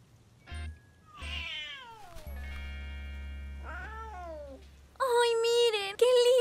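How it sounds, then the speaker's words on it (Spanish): An animated cartoon kitten meows repeatedly, with several drawn-out, sliding meows that grow louder and higher, set against a low sustained background tone. "¡Esa gatita fue la que me asustó!"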